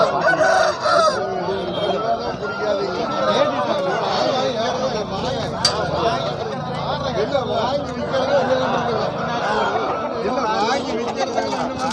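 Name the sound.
rooster crowing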